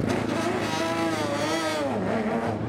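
A Porsche race car in the 2022 1000 Miles of Sebring pulls out of the pit lane under full course yellow, its engine droning loud and steady throughout with rising and falling harmonic pitch, no talk over it.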